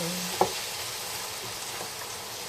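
Fried tofu cubes dropped into a pan for adobong okra, giving a soft thud followed by a steady broadband sizzle of hot oil, close and continuous with no talk.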